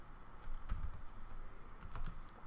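Typing a command on a computer keyboard, a few soft, close key clicks in short irregular bursts over a quiet background.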